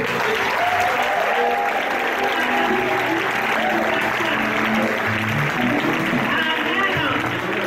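A congregation at a Sunday praise and worship church service bursts into loud, sustained applause with a steady wash of clapping and crowd voices throughout.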